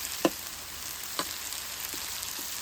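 Chopped onions softening in a paella pan give off a quiet, steady sizzle with a couple of faint clicks from the pan, low in level and with no talking.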